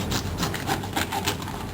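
A serrated knife saws through a sea bream just under the gill in quick, close rasping strokes, loud with a rough gritty texture.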